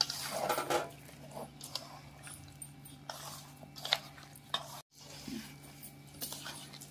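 Mango pickle being mixed with oil by hand: faint, intermittent wet squelches and soft squishing, with light clinks and a brief dropout, alone and without talk.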